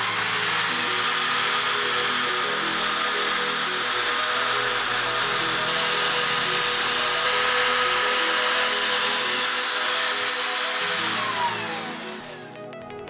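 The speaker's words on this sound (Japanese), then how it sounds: "ここを2箇所 8mm のドリルで穴開けしていきたいと思います。" A power drill with an 8mm bit whines steadily and loudly at close range for over ten seconds while boring through-holes in a jig, then spins down and fades at the end.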